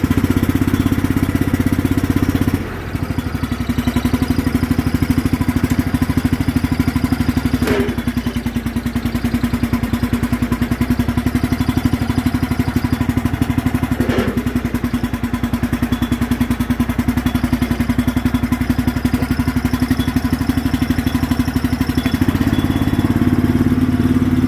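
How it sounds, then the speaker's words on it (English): A small garden tractor engine runs steadily, noisy and clattery, with a constant droning hum and a couple of brief knocks, close and loud throughout. "she fires up and drives around. It's not great. It's noisy. It's cackety."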